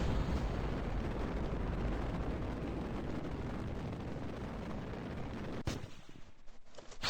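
Rocket stage engines firing in the RP-0 video game, heard as a steady, fairly faint roaring rumble that holds for several seconds and then cuts off abruptly near the end.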